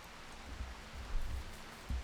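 Faint rain in RimWorld, a soft, low patter with scattered dull thumps, quiet and steady with no voices.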